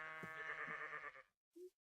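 A tainted sheep in Minecraft lets out a long, loud wavering bleat lasting over a second, then a short higher bleat follows after a brief silence.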